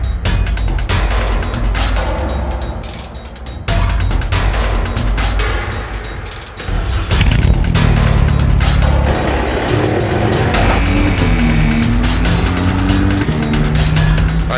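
A drift car on a racetrack doing a warm-up lap, engine loud and close, revving and changing pitch with tire squeal, a brief dip midway then a sustained roar.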